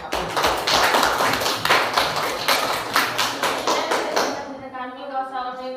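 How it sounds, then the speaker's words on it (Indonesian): A classroom of students in a physics lesson clapping hands together, rhythmic rounds of claps in steady bursts at close range, fading out at the end into a voice. "kita tepuk tangan dulu untuk apa?"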